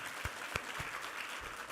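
Church congregation applauds during a Sunday worship service, a brief burst of clapping with a few sharper individual claps standing out, moderately loud and without talk.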